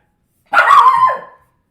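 A dog lets out a single loud, close bark that stretches into a short whining yelp, with silence before and after.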